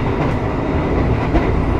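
The Argo Sindoro express train races through Surodadi station at around 117 to 119 km/h, a loud, continuous rumble and rush of wheels on track heard from close by, with no talking.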